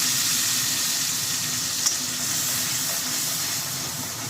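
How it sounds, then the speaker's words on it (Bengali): Onion, ginger and garlic paste sizzling in hot oil for a katla fish curry, a loud continuous close frying hiss with one brief click partway through. "পেস্ট করে নিয়েছি, সেটা এই তেলের মধ্যে এবার আমি ছেড়ে দিচ্ছি। পেঁয়াজ আদা রসুন"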